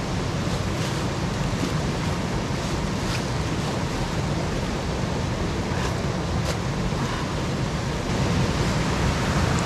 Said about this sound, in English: Pouring the water inside my boot should unstick it from my skin and make it easier to get off.